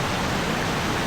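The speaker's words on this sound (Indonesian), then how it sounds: "Di sini terdapat sungai teman-teman, kanan kiri melewati batu besar" A river rushes steadily past large boulders in mountainous terrain, a dense continuous wash of flowing water, loud and close.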